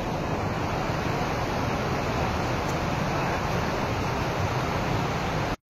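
Water rushes over the overflowing Itiadoh dam in Gondia, a loud, steady, broadband roar that continues without break and ends abruptly.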